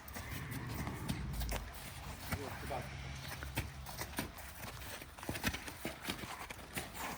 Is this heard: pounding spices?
no